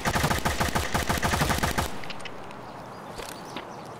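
Loud, rapid automatic gunfire from Escape From Tarkov rattles close for about two seconds, then cuts off to a faint, quieter backdrop with scattered light sounds.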